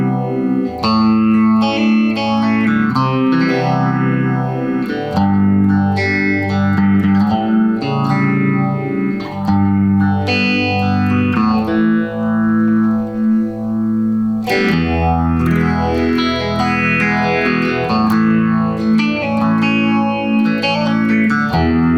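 Electric guitar on the middle pickup position, strummed and picked continuously through distortion, chorus and reverb effects, loud and full for the whole stretch with no talk.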